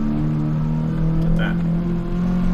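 A supercharged car engine in Gran Turismo 7 holds a steady, droning rev under load, loud and close with a sustained whine throughout.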